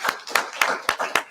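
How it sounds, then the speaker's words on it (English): Five or six sharp, evenly spaced hand claps, close and distinct, like a small group clapping in rhythm rather than a full ovation. "Could you hear the big applause from the audience?"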